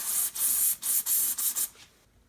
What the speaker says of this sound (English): spray down through the jet. Make sure you get a good spray through there.